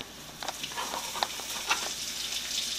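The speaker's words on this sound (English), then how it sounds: "My oil is hot. I'm going to put a pinch of hing, cumin seed, my bay leaves," Hing, cumin seeds and bay leaves hit hot oil for an Indian aloo gobi, giving a soft, steady sizzle and patter with a few sharper crackles, close by and without talk.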